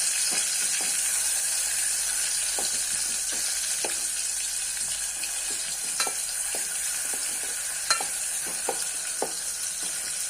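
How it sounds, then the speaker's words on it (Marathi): Tomato roasts in a pan over a low gas flame for matki rassa, a continuous soft hiss of frying with scattered small pops and occasional ladle taps, close and even throughout. "मंद गॅसवर आपण टोमॅटो चांगला भाजून घेऊया।"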